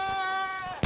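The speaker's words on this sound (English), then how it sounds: "It's a sheep!" A sheep in the video game Far Cry New Dawn bleats clearly with a strong, wavering tone for most of a second, then a brief loud burst cuts in at the end.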